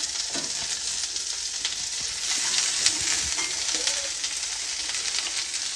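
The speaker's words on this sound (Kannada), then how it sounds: "ಬೆಂಡೆಕಾಯಿನ ತೊಳೆದ್ಬಿಟ್ಟು ಅದನ್ನು ಸಣ್ಣದಾಗಿ ಕಟ್ ಮಾಡಿಕೊಂಡು ಇದನ್ನು ಇವಾಗ ಹುರ್ಕೊಳ್ತಾ ಇದ್ದೀನಿ" Chopped okra frying in a pan, a steady broadband sizzle and crackle holding at an even level for several seconds, with faint stirring scrapes and no voices.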